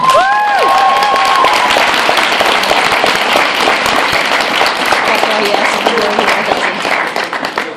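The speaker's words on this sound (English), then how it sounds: "Let's give a round of applause for Team 4-Star." Convention crowd at an anime Q&A panel applauds loudly for Team 4-Star, with a few whoops at the start; the thick clapping holds steady for several seconds before tailing off.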